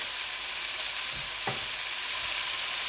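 Vegetables for pasta sauté in a pan, a continuous bright sizzle with a couple of soft stirring scrapes near the middle, close and steady with no voices.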